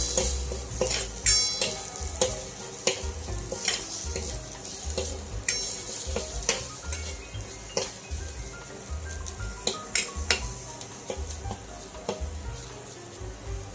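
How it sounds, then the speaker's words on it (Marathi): Chopped onion frying in a pan while tempering for a homemade buttermilk kadhi, a constant close sizzle broken by frequent rhythmic clinks and scrapes of a spoon stirring against the pan. "यानंतर कापलेला कांदा टाकून घ्या आणि तो लाल होईपर्यंत छान असा परतू द्या"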